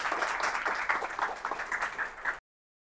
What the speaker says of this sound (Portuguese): Uma salva de palmas para os organizadores palestrantes também.